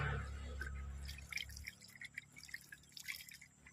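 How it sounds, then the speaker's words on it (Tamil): Canal water in a village trickles and drips softly, with a faint low rumble at the start, then scattered light splashes and gurgles continuing quietly. "இது பேர் நம்ம வாய்க்கால் தண்ணின்னுவாங்க."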